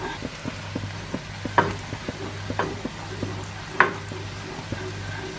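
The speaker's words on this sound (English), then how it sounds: "I'm just going to melt this butter down until it starts to sort of foam up" Butter melting and beginning to foam in a hot pan, a soft steady sizzle with a few sharper clinks of a utensil against the pan, close and moderately quiet, no talking.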